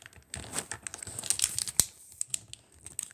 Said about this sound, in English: if you flip it over and fold it into thirds